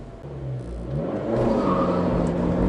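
An Abarth 695 Anniversario's small engine revs up as the car accelerates on track or road, a rising, steady growl heard close and loud with no talk.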